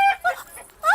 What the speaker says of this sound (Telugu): ఇక్కడెక్కడో కోడి సౌండ్ అనిపిస్తుంది.